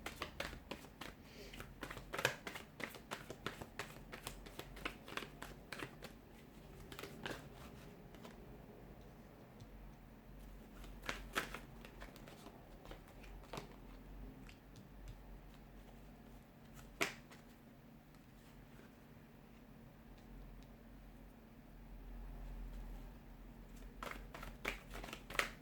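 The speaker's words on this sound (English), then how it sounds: "give the cards a shuffle" Tarot cards shuffled for a Taurus reading, giving a soft, irregular run of light ticks and riffles over about twenty-five seconds, faint and close, with low background hum and no talking.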